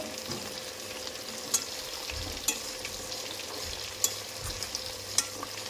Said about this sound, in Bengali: মাছগুলো পরপর সব এইভাবে ভেজে নেব